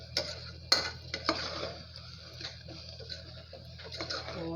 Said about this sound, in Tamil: கலந்து விட்டுருங்க.